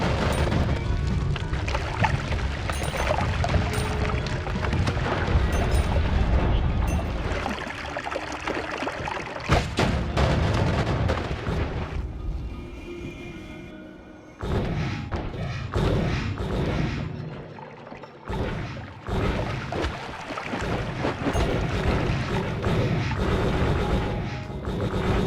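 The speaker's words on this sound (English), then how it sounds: "Fireworks are early this year." Firework-like explosions in the video game Noita, a dense run of booms, thuds and crackling bursts that comes in loud waves with brief lulls, no speech over it.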